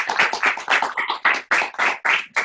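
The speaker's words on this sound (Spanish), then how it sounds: "Un aplauso por el doctor Sergio." A seminar audience claps for a guest speaker in a series of loud, rhythmic bursts of hand clapping, close and steady, with no talking.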